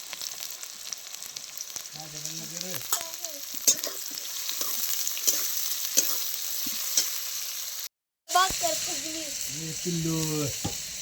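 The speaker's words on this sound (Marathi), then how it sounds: "कांदा चांगला लाल भाजून घ्यायचा आता" Onion is roasting in a pan until it turns deep red, with a busy sizzle and frequent scraping stirs close by. Faint voice-like tones drift in twice, and the sound briefly cuts out near the end.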